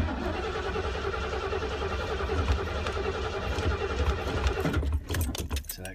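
An RV engine with a dry carburetor cranks steadily for about five seconds in a continuous loud churning drone, then stops, leaving a few brief clicks and rattles.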